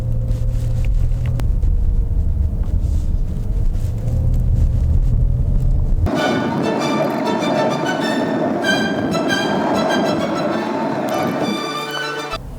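A car driving in sport drive mode gives a steady low engine and road rumble, which turns into a brighter, louder broadband roar with tonal lines about halfway through.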